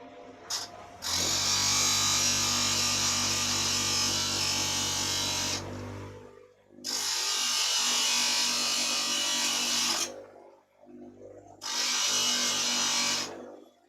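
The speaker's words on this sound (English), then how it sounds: "2 seconds while I quickly sharpen this." A woodturning tool is pressed against a powered sharpening grinder, producing three long, loud bursts of high whirring grind separated by short quiet gaps, with the motor bogging down slightly.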